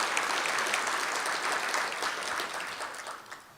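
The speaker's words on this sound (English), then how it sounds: "please, another round of applause for my council members" Audience applause at a mayor's State of the City address, given for the city council members: a full, steady wash of clapping that gradually fades toward the end.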